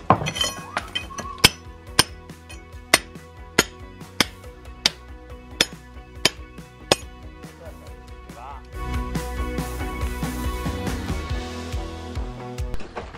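Bricks are smashed out of old brickwork above a door opening, with sharp, ringing hammer strikes hitting in a regular rhythm before giving way to a denser clatter of rubble, with talk in the background.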